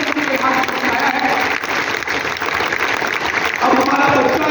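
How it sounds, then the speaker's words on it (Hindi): A company anniversary audience bursts into loud, dense applause with crowd noise, sustained and close throughout. "हम सब के एक बार जोर तालियां हो जाए जबरदस्त"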